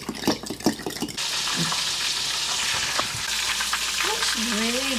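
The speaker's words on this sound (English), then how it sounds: "While Trey's still frying the oysters, we can start on this" Oysters frying in hot oil sizzle steadily and fairly close, a continuous crackling hiss following a few clinks at the start, with no talk over it.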